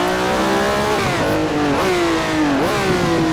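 A race car in Assetto Corsa lapping Laguna Seca, its engine revving hard in a loud, steady drone, pitch sagging at two quick upshifts before climbing again, with no one talking.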